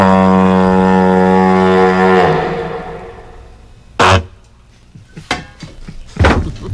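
A foghorn-like blast sounds first, a long, loud, steady tone played on a trumpet, then dies away into quieter short, sharp bursts imitating flatulence as a comic sound effect.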